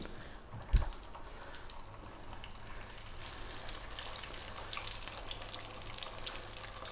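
Spicy potato cakes (aloo tikki) fry in hot oil, a soft, even sizzle running throughout after a single dull knock at the start.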